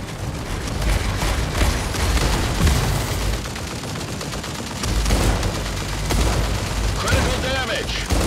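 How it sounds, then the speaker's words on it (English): Heavy weapon fire in the mech combat game Mech Arena: dense, continuous bursts of gunfire and booms rolling on for several seconds, loud and close, with in-game voice callouts over the barrage. "Incoming fire!"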